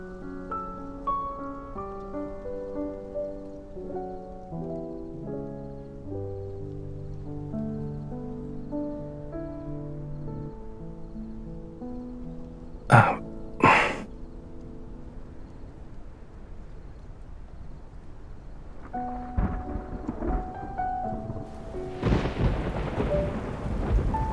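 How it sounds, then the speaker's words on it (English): In the Love and Deep Space video game, rain patters while two sharp thunderclaps crack close together near the midpoint, with heavier rumbling and downpour building toward the end under soft melodic game music. "It's raining! Let's head inside."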